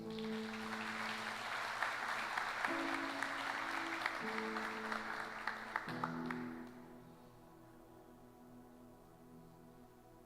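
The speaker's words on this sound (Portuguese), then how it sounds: "Então aplauda o Senhor aí" Church congregation applauding the Lord, a broad wash of clapping rising under sustained organ or keyboard chords, then fading out after several seconds while the music continues softly.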